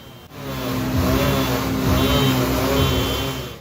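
A car engine roars steadily close by in heavy holiday traffic, loud and sustained for a few seconds with a slight rise and fall in pitch.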